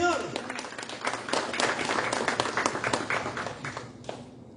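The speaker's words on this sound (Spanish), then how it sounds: "denle un aplauso al Señor" Church congregation claps during a Spanish-language sermon, a dense burst of applause filling the room and tapering off toward the end, with voices mixed in.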